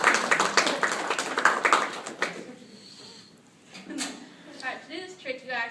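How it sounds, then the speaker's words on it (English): A small audience at a magic-trick presentation gives a brief round of clapping that fades out after a couple of seconds, followed by a voice talking. "Everybody give a round of applause."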